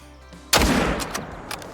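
A single loud rifle shot at a whitetail deer in the hunting game Call of the Wild, a sharp crack followed by a long rolling echo that fades, with a few smaller knocks after.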